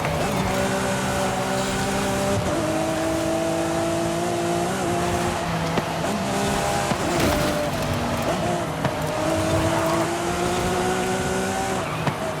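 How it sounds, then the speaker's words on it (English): A Lamborghini Aventador SVJ in Forza Horizon 5 works through corners, its engine tone climbing and dropping in steps with gear changes, a continuous close rasp with faint tyre noise and no talking. "This Aventador is good at cornering"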